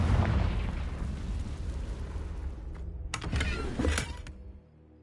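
Confringo spell blast in Hogwarts Legacy on PS5, a loud fiery burst with a sustained rumbling roar that swells, crackles with bright bursts near the end, then cuts off abruptly.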